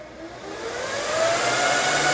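Dell R710 server fans ramping up to full speed: a whooshing whine climbs steadily in pitch and loudness, then holds as a loud, close, continuous roar with no talking.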